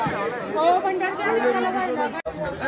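Dense crowd chatter fills a busy market area at Jejuri temple, many overlapping voices close and steady, with one brief break near the end.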